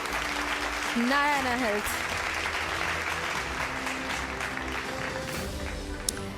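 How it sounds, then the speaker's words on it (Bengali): An audience at an awards ceremony claps in steady, sustained applause, while a voice speaks over the clapping near the start. "Can we have a big round of applause?"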